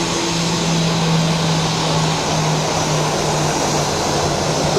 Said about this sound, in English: powerful sound of engines.